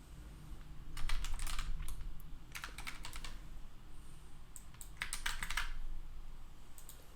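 Fingers type on a computer keyboard in quick bursts of clicking keystrokes separated by short pauses, close and clear, with no voices.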